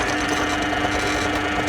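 A power drill bores right through a wooden board being shaped into a mirror frame, giving a loud, steady mechanical whir that holds an even pitch for the whole stretch, with no voices.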